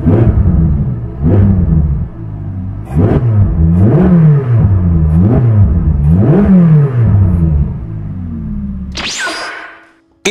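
Ferrari 458 Speciale engine revved repeatedly up close, a loud series of rising and falling blips in a steady rhythm, then one longer climb that fades away.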